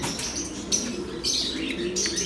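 Female blue bar pigeons in a loft, with wings flapping and soft cooing and chirps over a steady rustling background, fairly close, without voices.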